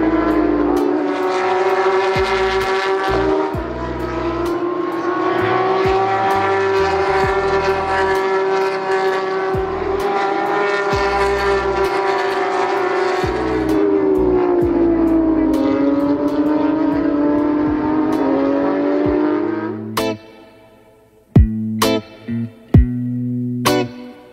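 Porsche Supercup race cars scream past at Circuit Paul Ricard during the 2022 French Grand Prix, a loud sustained high-revving engine wail rising and falling through gear changes, followed by sharp bursts from further cars.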